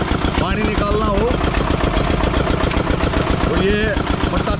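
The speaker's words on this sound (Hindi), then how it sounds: "पुराना इंजन है आइसर ट्रैक्टर।" An old Eicher tractor engine runs at a steady, loud chug on a village farm where sugarcane is made into jaggery, and the tractor also drives a water pump. The beat stays constant throughout, with faint voices underneath.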